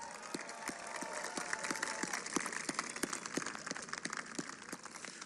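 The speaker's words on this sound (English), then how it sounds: "deserve the biggest round of applause" An outdoor crowd applauds at a national menorah lighting in Washington, a faint, distant, sustained patter of clapping with a few sharper individual claps standing out.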